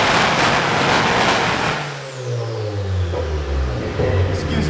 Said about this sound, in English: Lots and lots of revving.